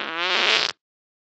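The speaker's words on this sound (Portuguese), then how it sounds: "De novo, vou peidar." A single fart lasting under a second, loud and close, with a rough buzzing start that stops abruptly into silence.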